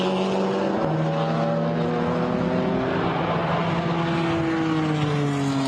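A McLaren GT4 race car drives through a chicane at the Nürburgring, its engine note rising and falling with gear changes and braking, heard steadily from trackside with no talk.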